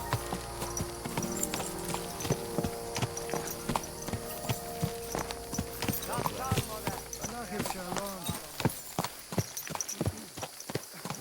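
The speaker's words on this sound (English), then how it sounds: "Is this your first time riding a horse," Horse hooves clip-clop steadily at a walking pace while riding in the video game Kingdom Come: Deliverance II, close and clear, with voices speaking over the hoofbeats.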